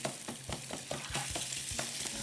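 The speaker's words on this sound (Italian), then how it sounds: "lo andiamo a sfrigollare" Food fries steadily in a pan for a ragù, a constant sizzle with quick scraping stirs of a utensil recurring every fraction of a second, close and without talk.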